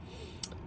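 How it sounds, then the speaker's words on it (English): A single sharp, snappy click of a piezo gas igniter on an Autoquest 145 motorhome stands out once against a quiet background hiss, brief and close. "that's the sound of the igniter."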